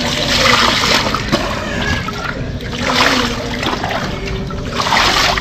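Floodwater rushing at night during heavy rain and strong wind, a dense, loud, continuous wash of flowing water that surges gently in waves with no break.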